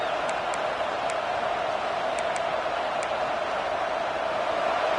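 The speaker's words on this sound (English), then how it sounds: "This crowd bringing the energy and noise early." Steady crowd roar fills a football stadium during a Washington vs Iowa game, a continuous dense wash of noise with a few faint whistle-like tones above it.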